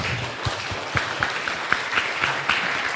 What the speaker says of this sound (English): Give an applause to Professor Aini Aman.